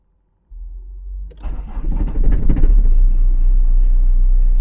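A 1993 Peugeot 306 XLD diesel engine cranks briefly, catches and settles into a loud, steady idle rumble close by, with no talking.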